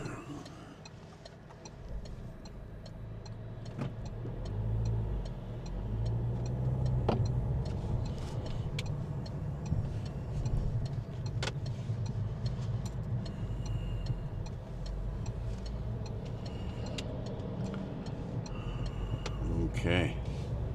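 A TUI tour bus drives along a road at around 30 km/h, heard from inside as a steady low engine and road rumble with occasional clicks and rattles, while people talk over it.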